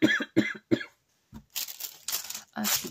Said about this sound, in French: je vais finir par arrêter de tousser.